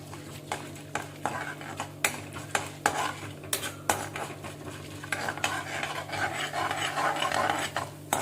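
Chana dal and urad dal roast on low heat in a pan after mustard seeds, a utensil stirring and scraping in steady, repeated strokes with faint sizzling, close and moderately loud, with no talking.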